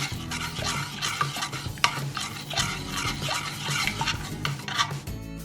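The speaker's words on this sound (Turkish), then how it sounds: "Şimdi bu karıştırarak biraz soğutacağım" A spoon stirs melted chocolate and butter in a pot, steady close scraping strokes in a repeating rhythm with faint clinks against the metal.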